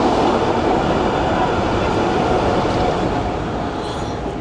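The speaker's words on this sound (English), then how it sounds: "the trams are basically just coming and going right above your head" Trams rumble past directly overhead in Budapest, a steady, loud rail roar with faint wheel squeal, heard from a seating area beneath the tracks on a summer evening.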